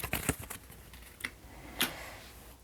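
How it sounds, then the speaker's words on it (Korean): A single tarot card drawn from the deck during a reading, heard as a few quick close clicks and a papery flick, then one more soft snap, with no voice. "한 장 더 뽑겠습니다"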